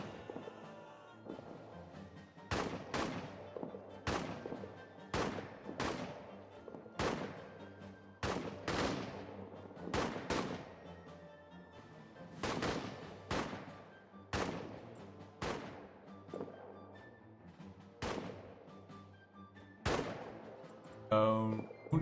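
Gunfire sounds from the World War I trench video game All Quiet in the Trenches: a long run of sharp, loud shots spaced every second or two, with echoing tails and occasional denser bursts.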